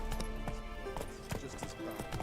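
Roach the horse gallops in The Witcher 3: Wild Hunt, with quick, rhythmic hoofbeats sounding close and continuous over a busy game soundscape.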